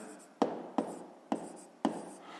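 A pen or chalk writes out a sixth-grade math exercise, four sharp taps each followed by a short scratchy stroke, close and fairly quiet, at an uneven pace, with no talking.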